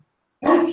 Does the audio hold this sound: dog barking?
yes